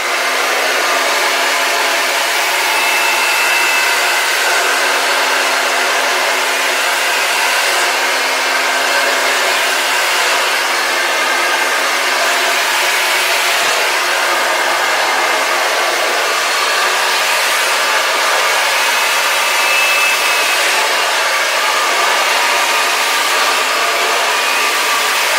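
A hair dryer blows steadily on its hot setting at high airflow, a loud constant whooshing hiss with a faint motor whine, running alone for the whole stretch with slight shifts as it moves around.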